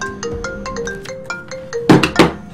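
A mobile phone ringtone plays a sequence of bright, evenly spaced electronic tones during a Toby: The Secret Mine playthrough, followed by two louder, harsher bursts near the end, with no talking over it.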